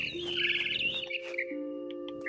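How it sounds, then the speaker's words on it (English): Bird chirps and tweets in the video game WROEF Molly's Story, a run of bright, high twittering calls over soft game tones, fairly close and steady for a couple of seconds. "Let's go ahead and chase the bird like it wants us to."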